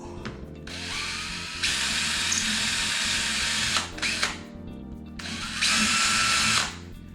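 A power drill enlarging holes for a table saw splitter runs in several close, loud bursts, whining steadily for a second or two at a time, with short pauses and brief bumps between runs.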